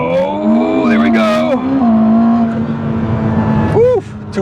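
A Ferrari launching hard with traction control off, its engine note rising steeply in a loud, close, sustained wail of climbing revs, with a brief shift-like dip and a final sweeping burst near the end.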